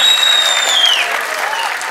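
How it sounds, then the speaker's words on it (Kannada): An audience at a Kannada movie title launch event claps loudly in a dense, sustained burst of applause that fades slightly toward the end, with a bright tone sweeping down over the crowd noise. "ಜೋರ್ ಚಪ್ಪಾಳೆ ಬರಬೇಕು ನಮ್ಮ ರಘುಗೋಸ್ಕರ"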